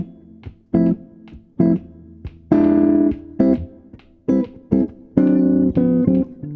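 Jazz guitar comping alternates short, clipped chord stabs with a few longer sustained voicings, played mostly on the upbeats in an uneven rhythm with silent gaps between, close and clear with no voices.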